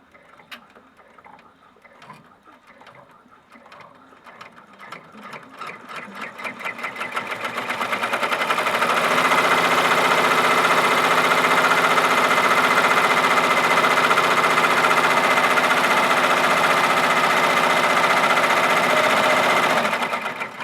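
Embroidery machine stitching a ribbon-loop key fob: a soft, irregular ticking start builds over several seconds into a loud, steady, fast mechanical whir that runs continuously to the end before cutting off, with no talk.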